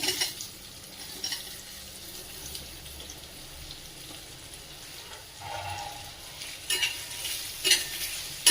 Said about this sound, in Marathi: तिखट चांगलं परतून घ्यायचं व्यवस्थित। कैरी व्यवस्थित परतून घ्यायची आहे।